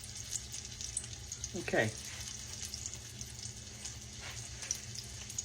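Catfish nuggets fry in oil with a soft, steady crackling sizzle close by, under brief low speech and a few clinks.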